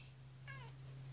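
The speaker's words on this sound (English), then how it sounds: "And this is our kitty Kisa." A house cat gives one short, faint meow in the middle of a quiet room with a steady low electrical hum underneath.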